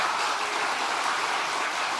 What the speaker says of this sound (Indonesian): Tepuk keras dong